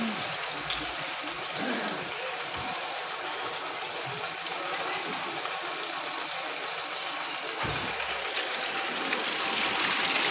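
Hot spring water gushes continuously from a lion-mouth spout at a hillside shrine in Uttarakhand, a steady broadband rush with no pauses, moderately loud and close.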